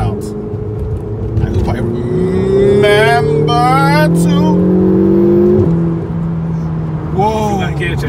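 Ferrari 488 engine revving hard and climbing in pitch, then dropping sharply at a gear change before rising again; loud and close, with someone talking over it.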